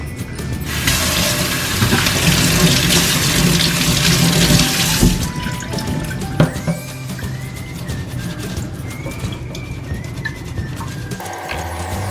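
Steady running water from a tap rinses parts of a Bissell CrossWave floor cleaner, loud and close, a heavy gush for the first few seconds easing into a continuous splashing flow with small knocks.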